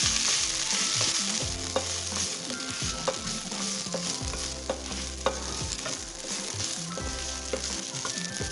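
Mint leaves sizzle steadily in hot oil in a pan for chutney, with occasional scrapes and taps of a stirring spoon over the continuous frying hiss.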